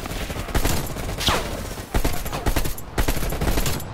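Rapid bursts of gunfire from the Call of Duty: Cold War campaign, with loud, close weapon shots and repeated volleys spread across the clip, including a fast whistling sweep partway through.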